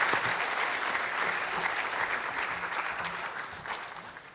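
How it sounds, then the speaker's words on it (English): Audience applause at a women's digital trade empowerment conference, a steady dense clapping from a sizeable crowd that holds for about four seconds and then begins to taper off. "we're first going to give you a round of applause"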